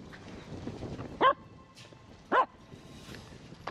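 Two short, sharp barks from a Finnish Spitz dog spaced about a second apart over a quiet indoor background, fairly close.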